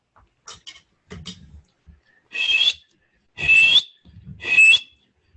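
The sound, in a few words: human whistling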